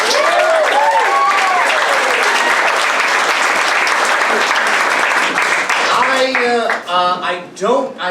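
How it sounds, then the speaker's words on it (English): A crowd applauds improv comedy graduates at a bingo night, loud sustained clapping with cheers and whoops rising over it, the applause thinning toward the end as voices shout. "Give them a round of applause."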